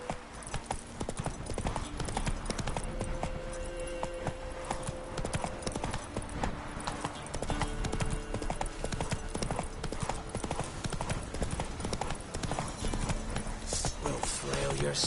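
A horse gallops in The Witcher III: Wild Hunt on PS5, its hooves beating a fast, continuous rhythm up close for the whole stretch, with game music and other sounds layered underneath.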